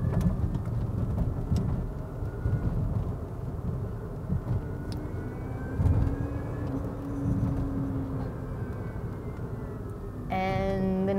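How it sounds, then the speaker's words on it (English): A Wheego two-seater electric car driving in sport mode, with a steady, fairly loud road and drivetrain noise throughout and a rising whine near the end. "the noise level is pretty loud, kind of worrying for an electric car"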